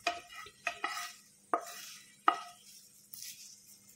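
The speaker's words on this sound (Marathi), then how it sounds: "आता सगळं हे आपण मिक्स करून घेणार आहोत" A spoon stirs and mixes fried ingredients into thin poha chivda in a pot, producing a few sharp scraping clinks spaced irregularly over quiet gaps, faint and close.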